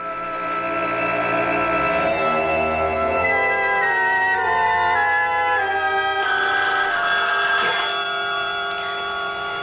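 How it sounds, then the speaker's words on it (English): An old-fashioned telephone bell rings in a 1970s radio drama, repeated metallic trilling bursts that stay fairly loud and close for several seconds, with no voices over them. "The phone."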